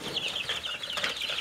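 Three-week-old Barred Rock chicks in a brooder box, a steady stream of high, soft peeping and chirping from several birds close by.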